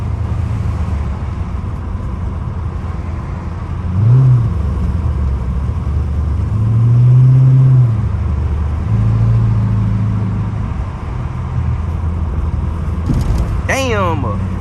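A straight-piped Dodge Charger R/T rumbles steadily while cruising downtown, a loud low exhaust drone with a few swelling revs. A voice speaks briefly near the end.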